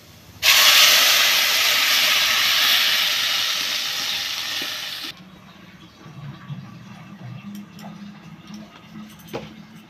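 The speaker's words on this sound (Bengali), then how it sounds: "দেব একটু কালো জিরা ফোড়ন, এবার দেবো ঝিঙে বাটাটা।" Ridge gourd paste hits hot oil seasoned with black cumin, bursting into a loud, sharp sizzle that stays strong for about five seconds, then cuts off to quiet stirring and light scraping in the pan.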